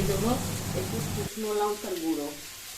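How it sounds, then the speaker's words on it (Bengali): Taro (mankochu) with salt and turmeric being sautéed in a pan, a close sizzling and stirring hiss that drops away midway, heard under someone talking throughout. "এখন খুব সুন্দর করে এটাকে মাংসর মতো একদম কষিয়ে নিচ্ছে"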